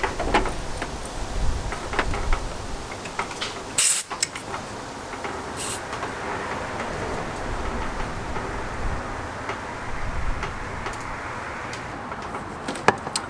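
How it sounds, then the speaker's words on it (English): Under the hood of a 6.0 Powerstroke diesel with a long cold crank, compressed air leaks with a constant broad hiss while oil gurgles faintly down inside the engine, with a few metallic knocks and one sharp thump early on. "I definitely hear a leak. I can hear the gurgling like of the oil down in there."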